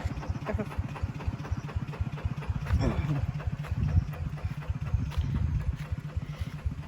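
A small ride-on vehicle used to ride to a hunting base sits idling, its engine throbbing steadily and close by in a fast, even low putter throughout.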